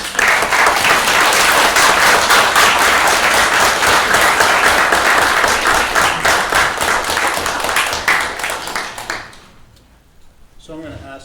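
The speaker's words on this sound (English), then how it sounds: "Round of applause." Audience applause following a trial advocacy round, loud and dense clapping from a crowd that holds steady for about nine seconds before thinning out and fading away near the end.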